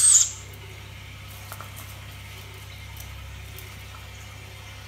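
An owl gives a short, loud call at the very start, then a quiet, steady low hum with a few faint scratches and taps follows.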